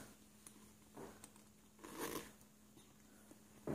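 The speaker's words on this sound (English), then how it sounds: "So it zips up." A zipper closing on a soft Thirty-One fabric bag, heard as a few quiet, short rasping pulls, the longest in the middle, with faint handling noise between them.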